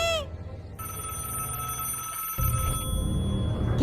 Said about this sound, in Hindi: 12:10 पे ये फोन बजता रहता है।